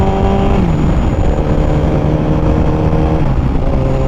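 A Kawasaki ZX14R motorcycle at a quarter to half throttle, its engine droning steadily and loudly up close with a rising then settling tone and no talk over it.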